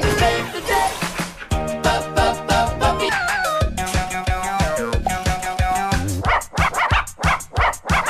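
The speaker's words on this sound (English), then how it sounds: "Couple of puppies, they're barking, chase and chew." Cartoon puppies barking and yipping in bursts over a busy animated soundtrack with music, the barks repeated and close throughout.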